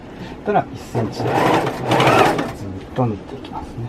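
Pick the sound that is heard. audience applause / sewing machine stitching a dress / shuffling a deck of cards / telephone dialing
sewing machine stitching a dress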